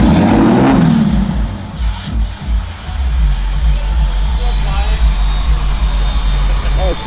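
A modified truck revving at a truck meet, a loud jet-like roar and whine with a powerful low rumble that surges and then holds steady, close by, with people talking over it.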